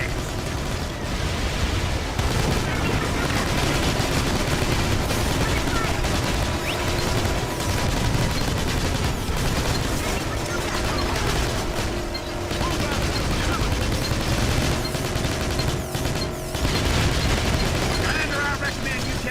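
Mortar and gunfire in Battalion Wars 2 on the Wii, a dense, continuous battlefield din of rattling shots and dull blasts, loud throughout, with voices talking over it.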